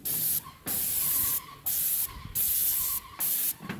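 A paint sprayer coats a roof in Jamaica in loud, close bursts of hissing spray, about five passes of roughly half a second to a second each, with short pauses between.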